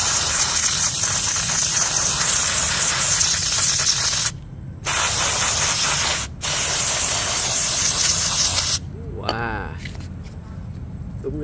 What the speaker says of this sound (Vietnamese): Tiếp tục mình xịt nữa.